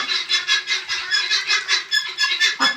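Chickens and hens in a garden where ducks are also kept, giving off repeated clucking calls in a steady, pulsing rhythm, close and fairly loud, with no speech.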